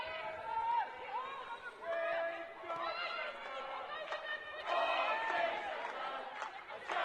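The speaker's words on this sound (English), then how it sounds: "Unsurprisingly, the Kingsmeadow crowd vocal in appreciation of what they've seen." A Kingsmeadow crowd at a Women's FA Cup match between Chelsea and Birmingham City calls out in appreciation, a steady swell of many overlapping voices and cheers with louder surges throughout.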